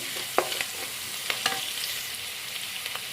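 Onions frying in a pan for chicken fried rice, a brief close crackling sizzle punctuated by a few quick spatula scrapes and taps.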